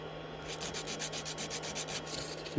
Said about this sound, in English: I'll just a little bit of sandpaper and just give it a little